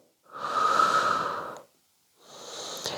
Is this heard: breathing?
yes